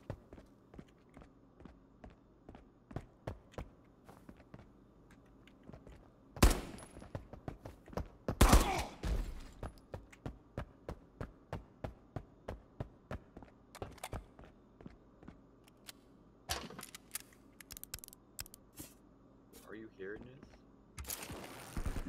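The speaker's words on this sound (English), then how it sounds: "There's a lot of gunfire on this side." Gunfire in a shooter video game: scattered shots, with sharp loud bursts standing out against a quieter stretch of rhythmic footsteps.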